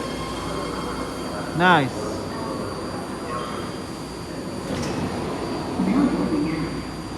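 A new ten-car, three-door Fleet of the Future BART Blue Line train to Daly City rolls into Powell Street station with a steady rumble and a brief loud wheel squeal, while a person briefly speaks.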